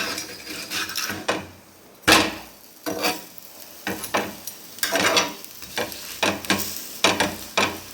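Ragi and murungai keerai adai frying in oil on a pan, flipped and pressed down, with a steady sizzle broken by repeated scraping, clattering spatula strokes at an irregular pace, close and fairly loud, no talking.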